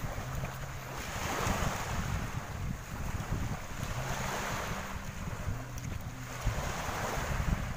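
Waves wash onto a seashore in steady, rolling surges under gusty wind buffeting the microphone. The sound is moderately faint, with no talking.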